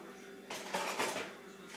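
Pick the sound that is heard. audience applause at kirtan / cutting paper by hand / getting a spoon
getting a spoon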